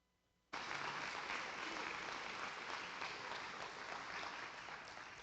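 Audience applause following Veteran's Day remarks, a sudden burst of steady, dense clapping from a large crowd that holds at full strength and eases only slightly toward the end.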